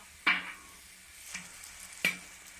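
A metal mould for Thai khanom dok jok soaks in hot oil in a brass wok. The oil gives two or three sharp sizzling bursts that fade between them, with no talk.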